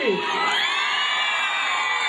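A crowd at a concert in Vanadzor cheers a singer with loud sustained whoops and shouts, a dense wall of voices throughout, and an announcer speaking over it.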